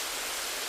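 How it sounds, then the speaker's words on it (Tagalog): Steady heavy rain hisses as a broad, even wash of noise during a motorcycle ride on a dark, cold road down from the hills, continuous and close with no voices. "Walang tigil pa rin yung ulan."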